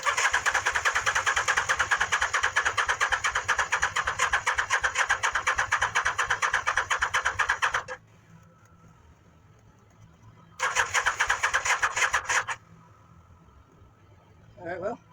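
Engine of a Mini Baja truck build cranking as it tries to start, a long rapid rhythmic cranking burst, a pause of quiet, then a second shorter cranking run, close and loud.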